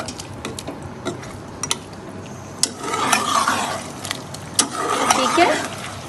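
Onions are stirred and fried in a large pot for degh-style beef korma, with spoon clinks and scrapes and swelling bursts of sizzle, while a voice talks quietly at times.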